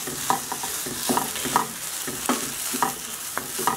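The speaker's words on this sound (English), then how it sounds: "we're still just frying it up" Steady broadband sizzle of food frying in a pan, with intermittent scraping and clinking as it's stirred, close and continuous.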